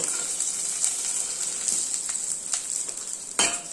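Mustard seeds, lentils and peanuts sizzle in sesame oil, a steady bright frying hiss broken by small crackles and pops, one sharper pop near the end, close and alone.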